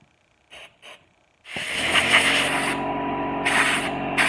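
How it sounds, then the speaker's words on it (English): Carb cleaner sprayed through the carburetor holes of a Pioneer 41 chainsaw: two brief soft puffs, then a long loud continuous hiss that pauses briefly and resumes at full force. "So basically, all these holes you got to blow carb cleaner down."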